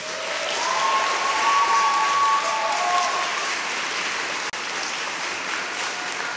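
A graduating class at a Simon Fraser University fall convocation ceremony applauds their families, friends, faculty and staff with loud, steady, sustained applause filling the hall, with no voices over it.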